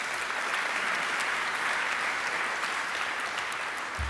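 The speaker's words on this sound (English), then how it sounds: "Please, can we have a round of applause for Callista?" A sustained round of audience applause at an event, steady and dense clapping from a sizeable crowd, moderately loud and unbroken for the whole stretch with no talking over it.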